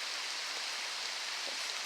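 Steady rain falls in a palm-lined outdoor spot, a dense, even hiss of drops with no pauses, fairly soft and continuous throughout.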